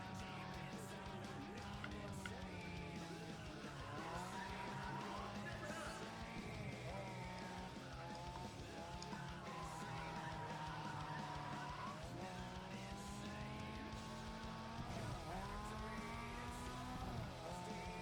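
Racing car in NFS ProStreet driving with steady engine drone and repeated tire squeals and skids as it brakes into corners, engine pitch rising and falling through gear changes, constant and moderately quiet throughout.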